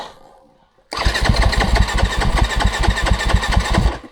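A Yamaha YZ250F dirt bike engine fires up after a brief quiet moment, then runs loud and close with a rapid, steady, slightly rough idle that continues to the end.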